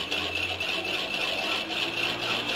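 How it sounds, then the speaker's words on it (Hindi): Yogurt is whisked in a bowl for dahi bhalla, a continuous close scraping and rattling with a faint pulsing rhythm and no talking. "इसे मैं अच्छी तरह से मिक्स कर लूँगी, फेंट लूँगी इसे अच्छा सा इसका"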